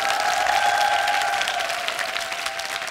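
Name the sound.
applause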